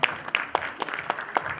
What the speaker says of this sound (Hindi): एक बार जोरदार तालियां हरीश गुप्ता जी